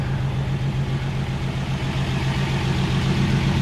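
A 1969 Mercedes car with its engine running on the road, a steady low rumbling hum that holds evenly and close throughout, with no voices.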